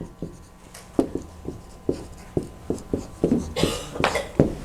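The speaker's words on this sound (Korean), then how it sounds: "한자로 써볼게요." Marker or chalk taps and scrapes against a board as Chinese characters are written, a steady series of short strokes and clicks up close. There is no talking.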